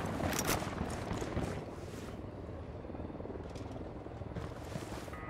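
An enemy Unidad helicopter approaching in Ghost Recon Wildlands, a steady low rotor drone that holds at a moderate distance and stays fairly faint, with no speech.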